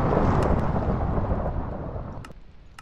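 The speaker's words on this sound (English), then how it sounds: "That is thunder. The storm is approaching." Thunder from an approaching storm, a loud close rolling rumble with rain texture that slowly fades over a few seconds, no talking.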